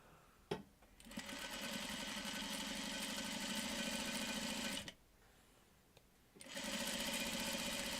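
A sewing machine runs a quarter-inch seam in two bursts of rapid, steady stitching, separated by a short pause with a click. The sound is close and even.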